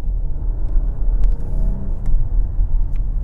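A BMW G70 740i accelerating gently up to the speed limit, heard as a low, smooth, steady engine rumble close by from inside the cabin, with no talking.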